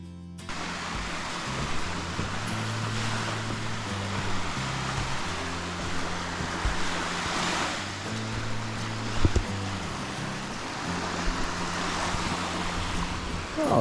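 Waves wash at Barrier Beach on Madeline Island, a steady broad surf hiss with gentle swells, under a low droning hum that steps in pitch.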